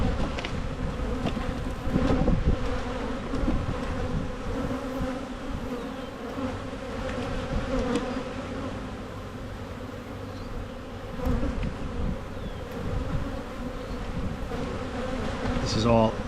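Honeybees hum steadily around an open hive during an early spring inspection, a dense buzz that stays close throughout, with a few soft handling clicks and bumps from the frames and no talking.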